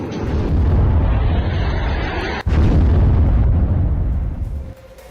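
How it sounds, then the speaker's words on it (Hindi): Explosion from an army strike on a militant camp at Muridke, a loud, sustained roaring blast lasting several seconds with a brief dropout midway before it fades, with no talking. "वहां पर सेना ने स्ट्राइक करके इसे उड़ा दिया है"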